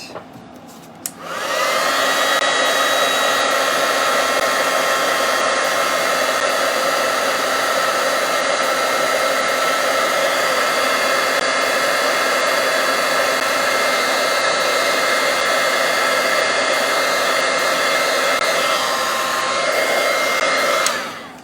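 A heat tool blows steadily while heat-setting embossing powder on a stamped card, a loud, constant whooshing roar that starts after a second of quiet and runs unbroken to the end, with no voices.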